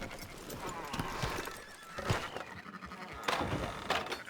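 Sheep bleat in a Red Dead Redemption 2 farm scene, several cries overlapping with horse whinnies and clip-clopping hooves nearby, while a voice talks intermittently.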